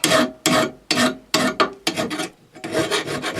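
An old Craftsman mower blade is sharpened with a hand file, giving about eight close, harsh rasping strokes in a steady back-and-forth rhythm with short gaps between them.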